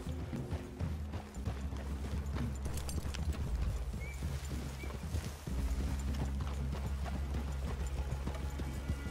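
Horse hooves clip-clop at an unhurried walking pace in Red Dead Redemption 2, several horses moving together over a low rumbling background, with a brief pause midway.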